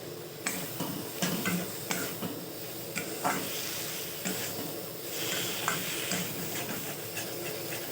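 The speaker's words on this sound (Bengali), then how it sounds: "মশলার সাথে আলু পটল খুব ভালোভাবে কষে নিয়েছি" Potato and pointed gourd frying with spices in a pan, a soft, steady sizzle with intermittent spatula scrapes and light taps as the mixture is stirred, fairly quiet and close.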